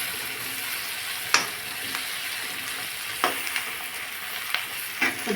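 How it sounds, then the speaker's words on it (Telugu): Dried fish frying in oil with ginger-garlic paste, a steady close sizzle broken by a few sharp scrapes and knocks of a spatula stirring against the pan. "అల్లం వెల్లిపాయ గోలిన తర్వాత ఎండు చేపలు వేయాలి. వేసి ఒకసారి కలుపుకొని"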